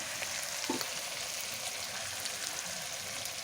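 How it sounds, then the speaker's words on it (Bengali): Ginger, garlic, cumin and red chili masala paste frying in a pan for a chicken curry, a steady soft sizzle with faint crackles, heard close and fairly quiet with no talking. "আদা রসুন জিরাও লাল লাল লঙ্কা বাটা এখন আমি দিয়ে দেবো। দিয়ে মশলাটা সুন্দর মতো কষিয়ে নেব।"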